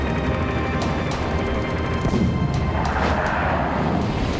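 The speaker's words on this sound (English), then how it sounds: "3 exploding cannon shells rocked the plane." A dense, continuous roar of rumbling blasts and crashes as exploding cannon shells hit a plane, loud and sustained throughout with no pauses.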